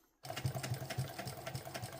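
A sewing machine runs steadily in a home crafting setting, its needle clattering in a quick, regular mechanical rhythm that stays close and fairly quiet after a brief silence at the start.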